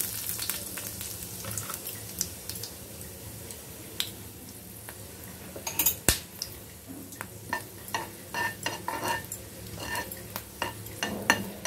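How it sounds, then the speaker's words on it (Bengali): Dried red chillies fry in hot mustard oil for a Bengali pickle, a soft continuous sizzle broken by frequent sharp clicks and scrapes of a spoon stirring against the pan. "সর্ষের তেলটা একটু গরম হয়ে গেছে, এবার এর মধ্যে লঙ্কাগুলো দিয়ে দিলাম"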